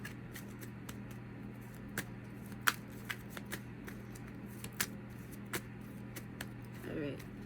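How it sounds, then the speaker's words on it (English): Tarot cards are shuffled by hand, giving soft, scattered riffling clicks and taps at low volume over a steady background hum. "Just gonna get this a little bit of shuffle."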